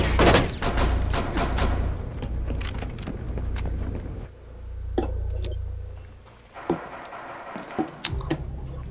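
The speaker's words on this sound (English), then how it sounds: "he just shot me through the wall" Rapid gunfire from the game Rainbow Six Siege, shots fired through a wall on a yacht map, with loud bursts of fast cracks and rattling impacts at the start and scattered single shots later, close and dense with no talking.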